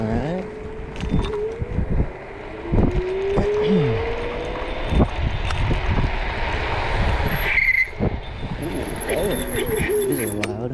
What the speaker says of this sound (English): brakes are a little squeaky today.